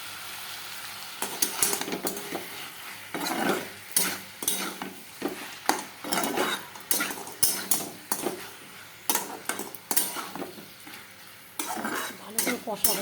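Goat meat is fried and stirred in a pan for a thin red curry, with a steady sizzle under repeated scraping and clanking of a metal spoon against the pot, loud and close, with no talk.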